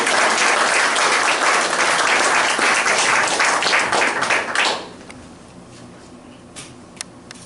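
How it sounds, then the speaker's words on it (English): A congregation in a church breaks into a loud, dense round of applause that fills the room for about four and a half seconds, then stops abruptly, leaving quiet room tone with a couple of faint clicks. "So we owe these guys a big round of applause."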